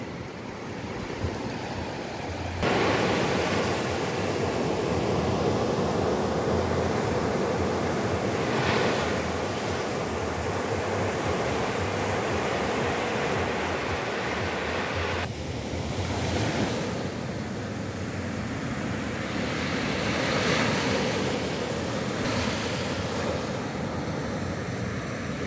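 Surf rolls onto the long, wide beach at Sayulita, Mexico, a continuous loud wash of breaking waves with gusting wind buffeting the microphone and surges of louder crashes.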